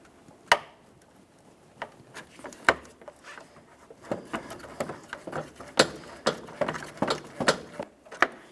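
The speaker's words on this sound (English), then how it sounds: "As we start removing the 10mm mounting bolt" A string of sharp metallic clicks and knocks, irregular at first and then quicker, as a wrench loosens a 10mm AC condenser mounting bolt on a 2012-2015 Honda Civic 1.8L, up close.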